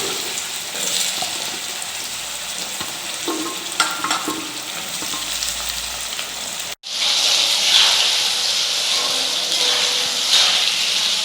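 Cut potatoes dropped into hot oil with panch phoron, bay leaf and dried red chillies, a steady close sizzle and hiss that jumps louder and brighter partway through as the frying intensifies, no voices.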